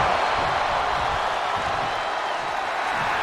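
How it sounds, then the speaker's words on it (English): Dense wrestling arena crowd noise from the WWE 2K24 video game, a loud continuous roar of cheering that stays steady and fills the whole span without letup. "The sound of this crowd is deafening"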